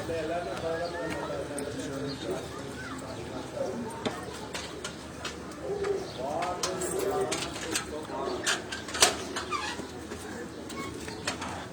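Pigeons kept by a breeder are fed on a city rooftop, giving soft scattered calls and flutters amid a busy, noisy background, with a few sharp clicks and knocks throughout.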